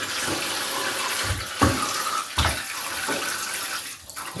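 Raw chicken washed under a running tap in a sink, steady close water flow with soft splashes and handling sounds, no voices.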